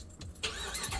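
A car with a 5.7 liter V8 Hemi engine, a low rumble that swells into a louder broadband roar partway through, close and without talk.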